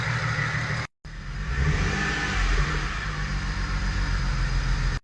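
A BMW E92 335i engine runs with a steady, rumbling drone, cutting out briefly near the start before resuming at an even idle.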